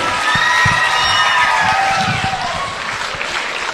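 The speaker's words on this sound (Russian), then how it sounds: "давайте все-таки еще раз ему подарим вот эти вот аплодисменты, на которые вы очень скупы" An audience at a concert applauds and cheers, a dense, steady wash of clapping with whistles and voices over it, loud and continuous.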